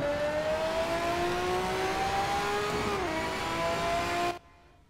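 A car's exhaust revs in the racing game Need for Speed Shift, a loud, close engine drone that climbs steadily in pitch, dips briefly, then cuts off abruptly near the end, leaving faint background hiss.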